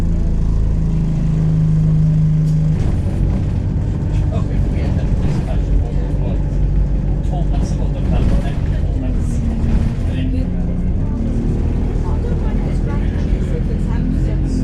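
Steady low engine rumble and road noise from inside a moving bus, continuous throughout with occasional rattles, heard during a hospital-visiting day lunch break.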